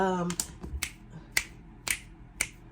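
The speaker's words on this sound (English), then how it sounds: "snap your fingers and say it" Half a dozen crisp finger snaps ring out one at a time at uneven intervals, close and clear in a quiet room, right after a brief voice at the start.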